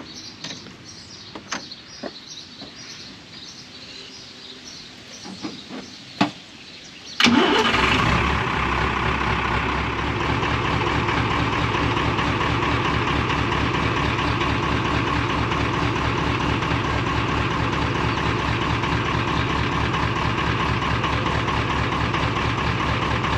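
A vehicle engine cranks and catches after some scattered clicks and knocks, then settles into a steady, loud, close idle that runs unbroken to the end.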